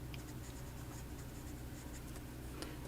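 A Pilot Silverin Jaguar fountain pen with an 18-karat medium nib writing on paper, a faint, steady scratchy stroke sound under a constant low background hum.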